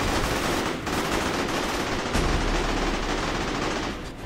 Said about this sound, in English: they're just shooting at stuff